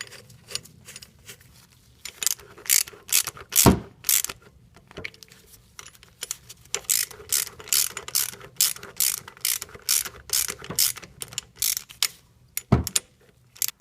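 A hand ratchet clicks in rapid bursts while tightening bolts during a Toyota RAV4 timing belt job, with repeated sharp pawl ticks, brief pauses and a couple of louder metallic knocks, close by and without talk.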